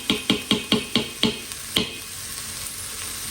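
Crushed tomatoes frying in an Instant Pot: six or seven quick, evenly spaced clacks of stirring against the pot, then a steady soft sizzle that carries on alone.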